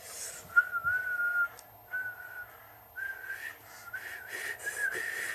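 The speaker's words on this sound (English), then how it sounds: "I don't know why I decided to start whistling, but I did." A person whistles a wavering, thin tune in short phrases with brief pauses, fairly close and moderately loud over faint background hiss.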